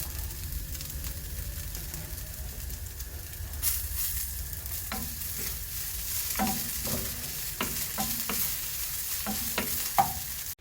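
Soft dry sizzling of cumin roasting in a pan with occasional scraping stirs, steady and close, no talking.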